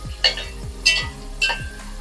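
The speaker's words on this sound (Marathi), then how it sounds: "टोमॅटो इथे आपल्याला 2 मिनिटांसाठी तेलावरती चांगला परतून सॉफ्ट करून घ्यायचा आहे" Sliced tomatoes sauté in hot oil for chicken tikka biryani, with three distinct spatula scrapes against the pan at a steady pace over a soft, close sizzle.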